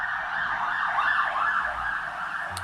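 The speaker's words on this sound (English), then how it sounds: "I think there's an ambulance going by." An ambulance siren passing by outside, its wailing tone loud and continuous, sweeping up and down throughout with a low road rumble underneath.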